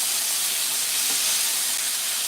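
Vegetables sauté in a hot pan, a continuous close, even sizzling hiss with no voices.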